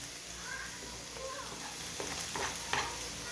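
Onion and garlic sizzle steadily in a frying pan while being stirred, with a constant frying hiss and occasional louder scrapes and clicks from the spoon against the pan.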